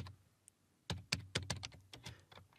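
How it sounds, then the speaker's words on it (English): A command is typed on a computer keyboard, about a dozen crisp close key clicks in a quick irregular burst after a near-silent start, with no voices. "So I'll type Copilot."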